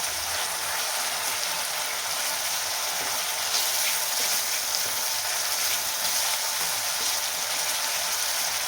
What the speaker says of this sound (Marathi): मी कमी गॅसवरती छान टोमॅटो आहे ते तेलामध्ये परतून घेतला आहे